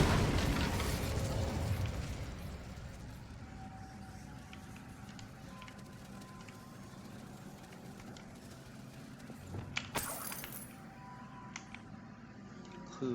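Incendio fire spell cast in the video game Hogwarts Legacy: a loud fiery burst at the start that fades into a low rumbling ambience, followed by small scattered pops and crackles.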